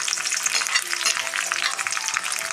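Onion, curry leaves, ginger, green chili and garlic fry in coconut oil in a pan with a busy, crackling sizzle, close and steady, with light stirring scrapes and no talking.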